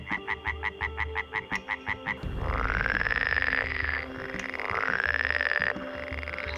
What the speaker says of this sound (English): And frogs make a variety of noises.